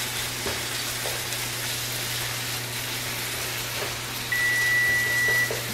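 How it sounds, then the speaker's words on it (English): Shrimp frying in a pan for Alfredo fettuccine in a home kitchen, a steady close sizzle with low hum beneath and a faint beep near the end. "The shrimp are cooking really fast."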